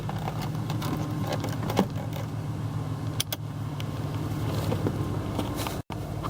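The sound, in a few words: car engine running rough, possible misfire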